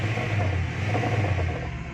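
A car engine runs in first gear with the clutch fully released and the accelerator pressed, yet the car does not move; a steady low hum holds close and even throughout.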